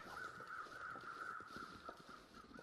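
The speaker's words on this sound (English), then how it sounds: "Seems like we had some weather crows fly over" Crows caw overhead in the wintry woods of the survival game The Long Dark, several faint, repeated calls drifting over a quiet background.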